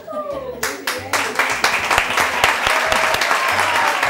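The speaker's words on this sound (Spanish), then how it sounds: "Un aplauso para ella, por favor." An audience applauds on a Spanish television variety show, the clapping building quickly into a dense, steady roar with a voice speaking briefly at the start and scattered low sounds underneath.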